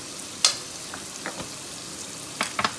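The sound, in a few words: frying spice masala in ghee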